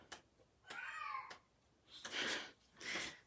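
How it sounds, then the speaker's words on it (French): A cat meows several times indoors, drawn-out cries that are fairly faint and close, separated by short pauses, with no voices over them. "J'ai un chat qui veut venir."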